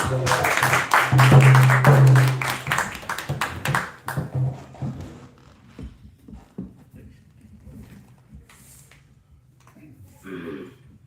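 Audience applause breaks out at a devotional Krishna talk, a dense burst of many hands clapping loudly for about four seconds, then thinning into scattered claps and faint room noise with a brief voice near the end.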